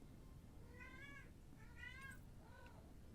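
A female cat in heat gives three drawn-out, rising-and-falling meows, faint over a steady low background hum.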